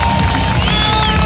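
A large outdoor crowd at a Red Bull X-Fighters freestyle motocross show in Athens, a loud continuous roar of cheering and applause with a whistle-like tone rising over it.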